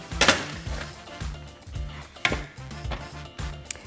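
A knife cutting down through a chilled log of paleo biscotti dough on a board, a series of close, crisp chops at an uneven pace, each ending in a knock on the board.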